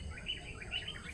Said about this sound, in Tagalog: ang maririnig mo lang, tunog ng ibon, hini ng ibon